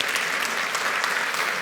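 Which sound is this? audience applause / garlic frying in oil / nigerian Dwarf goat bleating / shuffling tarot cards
audience applause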